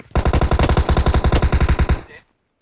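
Rapid machine gun burst in Battlegrounds Mobile India, about twenty evenly spaced loud shots over nearly two seconds, then an abrupt stop into silence.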